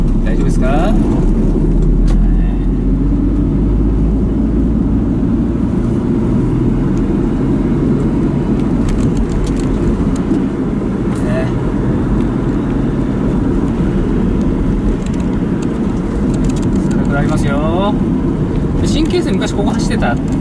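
Car interior during a drive, with a steady low engine and road rumble throughout as the vehicle drives and turns, while someone talks over it.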